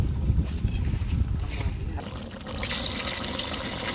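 Water poured from a container into a pot of Maharani chicken curry, a steady close splashing gush that thins into a hissing trickle.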